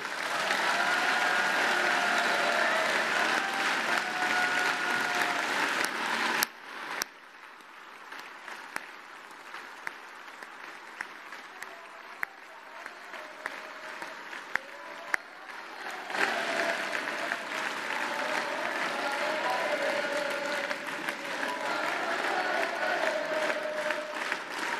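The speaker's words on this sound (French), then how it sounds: "Acclamons-les." Applause from a political rally audience for a European election campaign speech, a loud sustained wash of clapping that dips briefly before swelling again.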